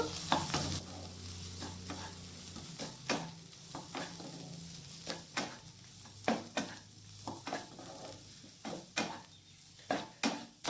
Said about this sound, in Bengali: এরপর আমি আদা আর রসুনের কুচিটা দিয়ে দিচ্ছি। আবার আদা আর রসুনের কুচিটাকে হালকা করে ভেজে নেব।